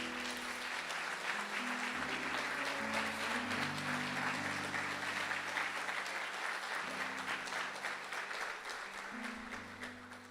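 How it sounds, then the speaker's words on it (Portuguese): A church congregation at a Foursquare (Quadrangular) worship service applauds steadily for about ten seconds. Sustained keyboard or organ chords play underneath, and the clapping eases off toward the end. "Vamos aplaudir ao Senhor"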